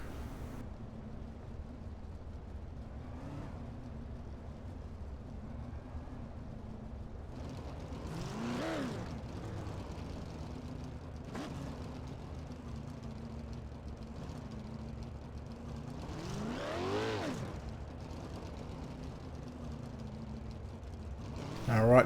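410 winged sprint cars roll around Williams Grove Speedway under caution before the green, a steady engine drone that swells twice as the pack passes near, with faint announcer-style talk beneath.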